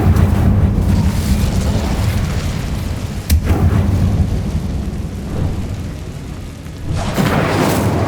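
A Bombarda blasting spell explosion in Hogwarts Legacy: a loud, deep rumbling blast with a sharp crack partway through, rolling low-end roar, then a fresh burst of noise near the end.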